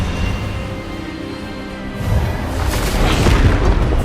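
An Expelliarmus spell cast in Hogwarts Legacy, a loud whooshing boom that rises midway and swells into a rumbling burst over steady game sound.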